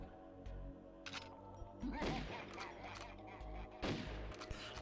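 Gunfire in the video game GoldenEye 007 on the Aztec level: several sharp, punchy shots in quick bursts with booming low thuds, close and loud, with no talking.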